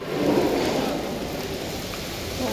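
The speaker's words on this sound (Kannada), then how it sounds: "ತುಂಬ ಸೈಕಾಗಿ ಮಳೆ ಬರ್ತಿದೆ." Heavy rain pours down steadily, a dense, loud wash of falling water with no break and no voices.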